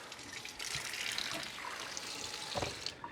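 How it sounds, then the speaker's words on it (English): A raw pork butt is rinsed under cool running tap water: a steady hiss and splatter of water from the faucet hitting meat and sink, continuous and close, with small shifts as the meat is rubbed. "Just giving it a quick rub down with some cool water"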